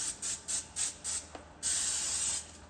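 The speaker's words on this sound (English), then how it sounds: "so I'm gonna spray it with Pam" Pam cooking spray hisses onto a baking pan in five short bursts, then one longer steady spray, close and fairly quiet.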